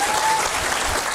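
An audience at a business seminar applauds with dense, steady clapping that fills the whole moment, loud and close throughout.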